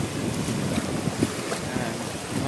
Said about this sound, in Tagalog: Sobrang lakas ng alon mga ka-journey.